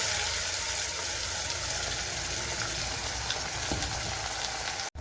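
Kottayam style fish curry base with curry leaves frying in a pan, a steady close sizzle and bubbling that runs evenly, then cuts out abruptly at the very end.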